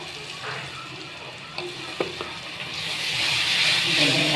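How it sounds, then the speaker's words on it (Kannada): Garlic paste sizzling in a hot pan for dum biryani, a steady close frying hiss with a few sharp clicks of stirring, the sizzle swelling louder and brighter in the second half. "ಒಂದು 2 ಸ್ಪೂನ್ ಅಲ್ಲ ಬೆಳ್ಳುಳ್ಳಿ ಪೇಸ್ಟ್ ಹಾಕ್ತಾಯಿದ್ದೀನಿ."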